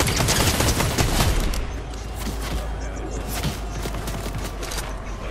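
Rapid bursts of gunfire from a Fortnite match fill the whole stretch, loud and dense, with overlapping shots and impacts rattling on continuously.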